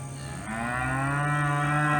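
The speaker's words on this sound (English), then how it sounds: "the cow, her mama, is back in the brush over here, calling to her" A cow in brush calls to her newborn calf with one long, loud moo that swells and holds to the end, nearby on a farm with no talk over it.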